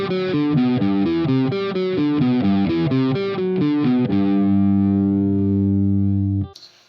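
Seven-note major scale exercise in 7/8 on an effects-processed, distorted instrument, a quick run of rhythmic repeated notes that ends on a long sustained chord before cutting off, with no talking.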